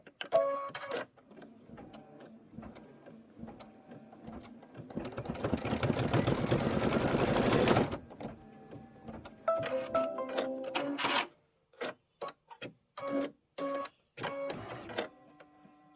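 A sewing machine stitching backward over a few stitches while making a Kimberbell storybook pocket pillow. It runs steadily, then surges into a louder, denser stretch before breaking into short stop-start bursts with brief silences between them. No voices.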